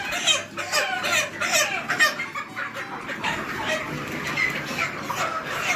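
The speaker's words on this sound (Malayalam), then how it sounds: "അപ്പോൾ നമുക്ക് കുറച്ചു നേരം കോഴി പിടുത്തം കാണാം" Chickens clucking and squawking in agitation as they are caught and counted for an order of 200 birds, a dense, busy flurry of fowl calls that continues throughout at close range.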